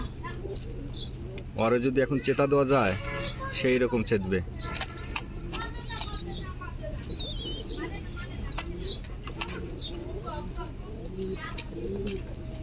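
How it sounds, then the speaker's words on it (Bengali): Blue satin pigeons coo in a short run of low, throaty calls near the start, with someone talking over and after them and faint wing or handling noise in the background. "দেখুন পায়রা কিভাবে ডাকছে।"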